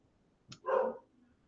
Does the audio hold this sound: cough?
no